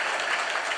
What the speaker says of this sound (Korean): 우리 따뜻한 환영의 박수로 한번